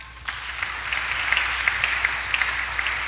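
Applause from a church congregation during a sermon, a steady wash of clapping that holds evenly throughout at moderate level with scattered sharper claps standing out.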